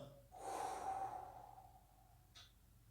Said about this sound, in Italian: inspiro, espiro.